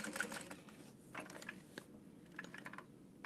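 Sewing machine back stitching on a beauty bag, a quiet mechanical ticking and rattling of the needle mechanism in short irregular bursts, close and faint, with no voices.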